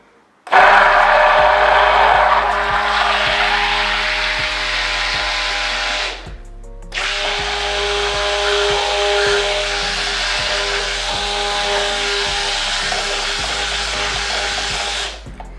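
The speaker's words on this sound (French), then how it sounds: "Nous allons plonger notre mixeur." An immersion blender whirs loudly while mixing soap paste, a steady motor drone that cuts out briefly partway through, then starts again and runs on.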